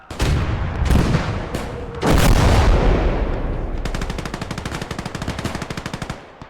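Heavy gunfire from the World War II game Call to Arms: Gates of Hell, Eastern Front, Soviet versus German: loud booming shots, then a fast, steady burst of machine-gun fire near the end.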